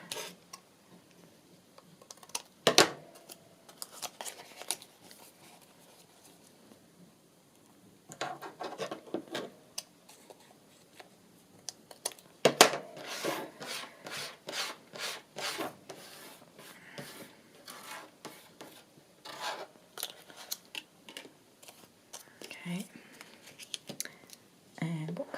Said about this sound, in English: Grab the right scissors.